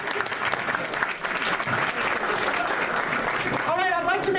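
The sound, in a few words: audience applause for Sophia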